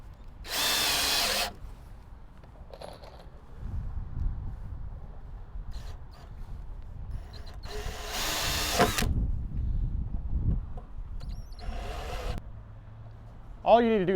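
A power drill drives screws into pre-drilled wooden raised garden bed boards in three short whirring bursts, separated by quieter handling sounds and low talk.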